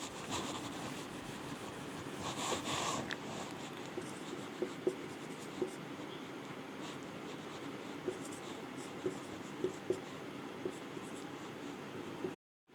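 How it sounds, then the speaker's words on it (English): Writing on a board to work a chemistry example, a soft continuous rubbing and scratching with small tapping strokes, close and faint against a steady background hiss. "So we can write one example"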